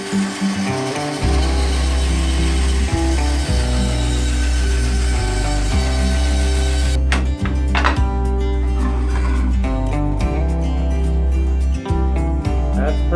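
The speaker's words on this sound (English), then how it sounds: "I'm gonna do it on my bandsaw" A bandsaw cuts wood for a homemade fire starter in a workshop, its motor humming loud and steady with brief dips and clicks as the blade bites, the pitch shifting partway through as the cut changes.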